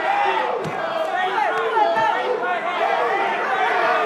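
Crowd at an Eternal MMA 50 fight between Henri Burns and Ricky Biechun, a steady roar of chatter and cheering filling the arena, with a commentator talking over it throughout.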